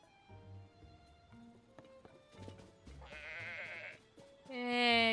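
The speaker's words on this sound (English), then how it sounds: "Goat." A goat bleats in Zelda: Tears of the Kingdom: short, quavering calls over sparse game tones and chimes, ending with a brighter, louder bleat.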